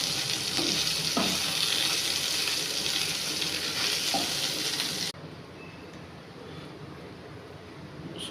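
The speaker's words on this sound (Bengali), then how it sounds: "সয়াবিনগুলো তেলে ফ্রাই করেছি।" Soybean chunks fry in hot oil in a pan, giving a steady, fairly loud sizzle with faint stirring scrapes; partway through the hiss drops to a quieter, duller crackle.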